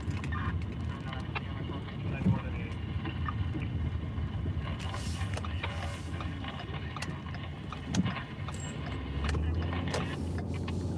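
A car drives through nearly empty city streets in daylight, its low engine rumble and road noise steady throughout, with wind buffeting and occasional knocks and clicks inside the cabin.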